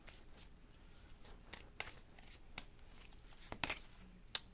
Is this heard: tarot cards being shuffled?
yes